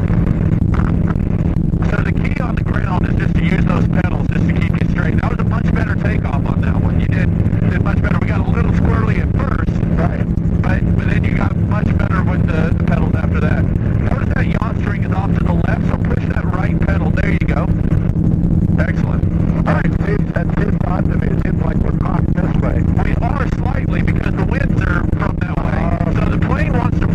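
A gyroplane's engine and rotor drone loudly and continuously in flight after takeoff during instruction, with an instructor and student talking over the steady noise throughout.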